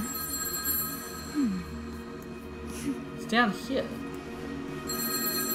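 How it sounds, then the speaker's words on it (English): A telephone rings in the Scandinavian folklore adventure game Roki, a faint repeating electronic bell tone behind game ambience, while a player talks over it. "I can also hear a phone ringing."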